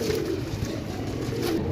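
Golden pigeons cooing close by, a steady soft low murmur of coos with no talk over it.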